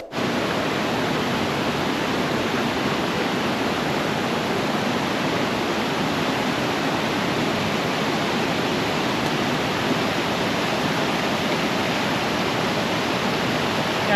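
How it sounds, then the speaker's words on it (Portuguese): Steady, loud rushing water from a small mountain waterfall in the hills near Viana do Castelo, Portugal, an unbroken broadband roar close to the falls with no voices. "tem até essa mini cachoeira aqui, pô, no meio da serra"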